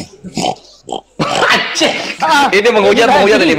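A man imitates a pig with short nasal snorts and grunts, then speaks loudly and quickly while others talk over a busy background.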